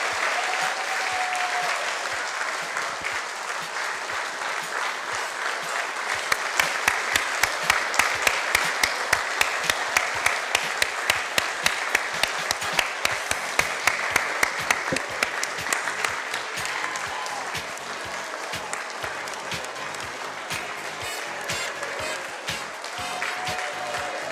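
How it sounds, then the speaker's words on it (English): Sustained applause from a fashion show audience at a museum fundraiser, steady clapping throughout with a denser, more rhythmic stretch of distinct claps in the middle before easing back to a broad wash. "let's give all of our models a round of applause, please"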